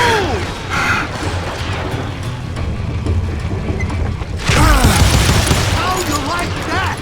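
Gunfire from the Western shooter game Call of Juarez Gunslinger: repeated loud shots and impacts in a busy gunfight, with a sharp heavy burst near the end.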